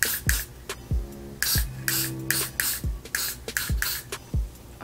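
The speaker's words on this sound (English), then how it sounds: "Got to Be Glued spray. And spray it down" Got to Be Glued hair glue spray is sprayed in a series of short, loud bursts of varying length over a wig, with brief pauses between them and no voices.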